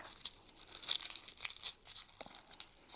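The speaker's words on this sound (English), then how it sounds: "It's always wrapped in a piece of paper like that, as I mentioned before, many different colors, and you unwrap it like" A paper wrapper is peeled and crinkled off a hard Brazilian birthday candy, giving close, quiet, irregular rustles and crackles over three seconds.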